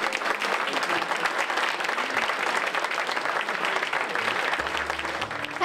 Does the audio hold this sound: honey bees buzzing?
no